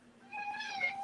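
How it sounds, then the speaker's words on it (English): A cat meowing in the background while someone colors sticker art: one drawn-out, fairly faint meow lasting about a second, with no talking over it. "you might be able to hear my cat in the background"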